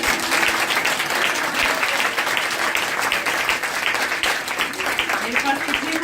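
Audience clapping at a Mahashivratri flag-hoisting gathering at a Brahma Kumaris centre in Delhi, a steady loud crowd applause lasting several seconds, with a voice speaking over it.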